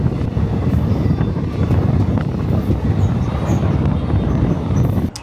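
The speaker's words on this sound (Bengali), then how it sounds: "ট্রেন এই মুহূর্তে পার করছে হুগলিগা স্টেশন" A train passes through Hooghly station, a loud, steady rumble of wheels and carriages heard from close by, with wind buffeting the microphone throughout.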